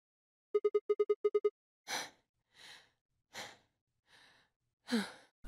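Soft, breathy exhales from a video game character in Virtue's Last Reward, five separate sighs after a quick run of short electronic beeps, close and clear with no talking.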